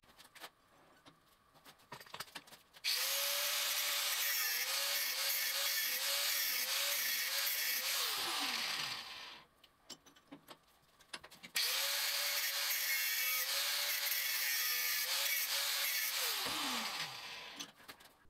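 A power tool cuts a gutter into the corner of the saddle dovetail on a 7x12 minilathe, running loudly for two long stretches of about eight seconds. Each run wavers in pitch, winds down, then pauses briefly between the runs.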